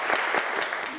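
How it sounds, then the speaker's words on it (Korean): An audience at a Seoul National University chemical and biological engineering lecture event claps briefly, a dense patter of applause with distinct sharp hand claps standing out. "큰 박수 부탁드릴게요."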